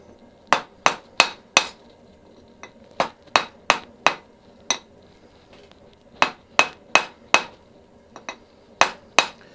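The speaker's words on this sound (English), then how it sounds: "as you hammer it to a point, it'll actually cut the metal" Hammer blows on a small steel bar being drawn to a square point, ringing metallic strikes in quick bursts of three to five with short pauses between, loud and close with no talk.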